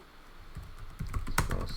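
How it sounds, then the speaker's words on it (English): Keys on a computer keyboard are tapped in quick, uneven clusters of clicks, close and fairly quiet, with no talk. "Am I really not typing correctly?"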